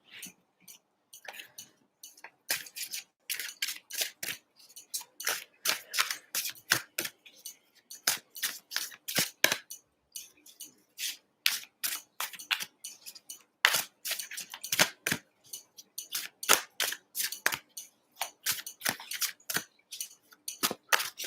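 Tarot cards are shuffled over and over, close up, as a long run of crisp, rapid riffles and clattering slaps comes in bursts with short pauses between.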